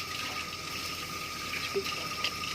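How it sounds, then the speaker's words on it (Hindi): Water running steadily while an ink stain is being cleaned, a continuous hissing gush at moderate level with faint small clicks and no voices. "तो इस तरीके से हमने पानी ले लिया है, तो पानी लेके इसको निकालने की कोशिश करते हैं।"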